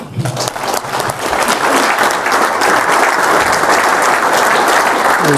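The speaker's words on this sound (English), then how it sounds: "Why'd you guys clap?" A live audience at a leadership event in Lake Hallie, Wisconsin claps for a speaker being introduced. The loud, dense applause builds quickly and holds steady throughout.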